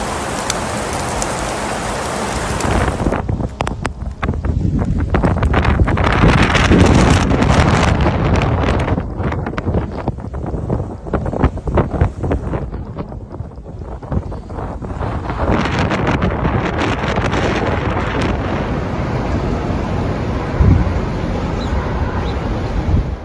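Strong winter storm winds in Colorado buffet and roar with loud gusty rushes that surge and ease over about twenty seconds, mixed with a rain-like hiss.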